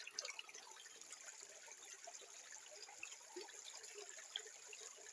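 Natural water trickles faintly from a drinking source out in the fields, a thin, steady dribble with soft, scattered splashes and no voices.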